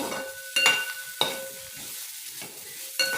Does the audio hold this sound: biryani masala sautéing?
yes